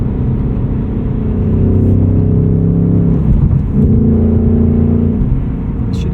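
A 2024 Ford Mustang Dark Horse with a Tremec six-speed manual, switched into sport mode on a concrete highway, gives a loud, steady engine drone and rumble that swells as it pulls, with no talk over it.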